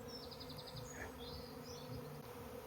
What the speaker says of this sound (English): No, that's a swarm